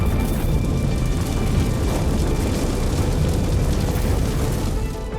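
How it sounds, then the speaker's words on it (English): Explosions from the Lahaina wildfire on Maui roar as a dense, continuous low rumble, booming and crackling steadily in the distance with no voices. "You can hear the explosions in the background there"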